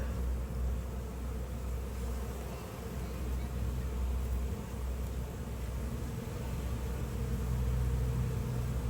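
Honey bees hum on a hive frame lifted during an inspection, a steady, low buzzing drone that stays even throughout at moderate level with broad hiss, no clear talk over it.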